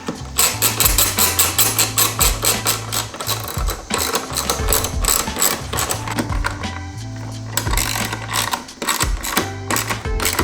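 Fast, rhythmic ratchet clicking from a hand tool tightening 10mm nuts on a BMW F30 taillight, running in steady bursts with brief pauses, close and clear.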